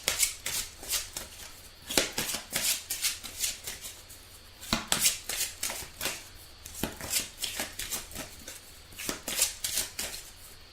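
A deck of angel love oracle cards shuffled by hand, giving a continuous run of soft, close riffling and tapping sounds with regular sharper snaps, no talking.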